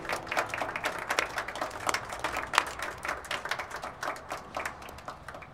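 Classroom applause for a schoolboy, a dense steady patter of many hands clapping together for several seconds, close and fairly loud, with no voices over it.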